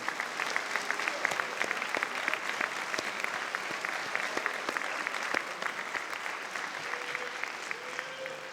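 A crowd at an AP awards ceremony applauds students and their teachers, steady many-handed clapping that continues evenly throughout with occasional sharper individual claps standing out near the front.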